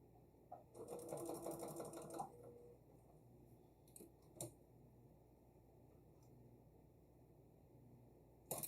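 A home sewing machine joins quilt patches end to end in one steady whirring run of about two seconds, followed by faint clicks and handling noises in a quiet room.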